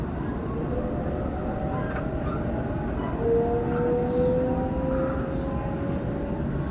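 Sydney metro train passing near the tunnel portal on the Bankstown Line, a steady rumbling roar with a rising whine that holds through the clip, moderately loud and without talk.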